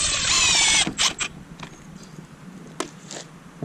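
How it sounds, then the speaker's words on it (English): A power drill drives screws through plywood into a 2x4 during setup of a human foosball court; a loud burst of whirring is followed by shorter, quieter drill pulses and a few clicks, with no talk. "So we'll just screw that to this 2x4."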